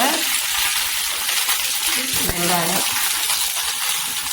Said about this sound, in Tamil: கடுகு இதுவும் பொரிஞ்ச பிற்பாடு அதில் நான் கொஞ்சம் கருவேப்பிலை போடுறேன்